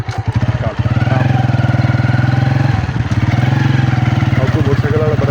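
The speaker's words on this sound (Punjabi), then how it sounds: "ਮੋਟਰਸਾਈਕਲ ਵਾਲਾ ਬੜਾ ਤੇਜ਼ ਆ ਰਿਹਾ" A motorcycle on a Punjab village road sounds close and loud, its engine giving a steady, throbbing drone that briefly dips near the middle before carrying on.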